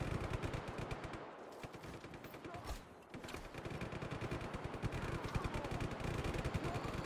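Rapid automatic gunfire from a Just Cause 3 shootout rattles in dense, continuous bursts, loud and close, with a brief lull near the middle before the shooting resumes.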